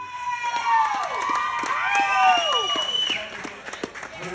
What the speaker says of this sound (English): I don't know why you guys are cheering so loud